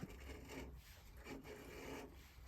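A roughing gouge shaves wood on a lathe, giving a steady, close, faint scraping rasp with a few slight surges in texture and no voices.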